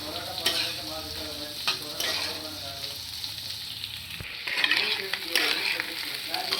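Potato pieces frying in a garlic-chili tempering over a medium flame, sizzling steadily while a spoon stirs and scrapes the pan in repeated close strokes.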